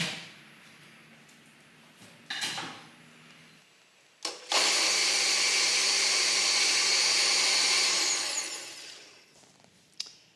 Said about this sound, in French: Ma crème de tomate est cuite, je vais pouvoir la mixer.